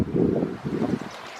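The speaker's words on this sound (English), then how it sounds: "Sorry about the wind. It's been windy here lately." Gusty wind buffeting the microphone in a garden, a low rumbling roar that swells and fades in two bursts before easing off.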